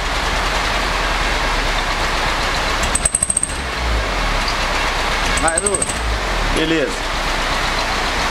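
A New Civic's engine, lacking power, roars steadily through its exhaust, with rattling pulses as it revs; someone speaks briefly over the loud, continuous noise.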